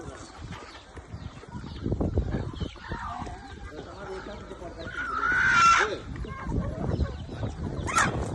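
Free-range desi chickens cluck and call on a poultry farm, with scattered close squawks and a louder cackle near the middle, while people talk over them.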